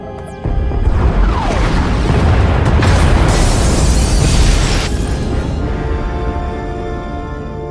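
Massive explosions tear apart escape pod bays in The Old Republic: a sudden loud blast erupts, then a long, rumbling roar of destruction with crashing debris that slowly fades.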